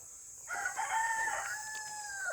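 Wild junglefowl (labuyo) crowing in the mountains of Rizal, a single clear crow that rises then holds a long drawn-out tail, heard from some distance over quiet forest background.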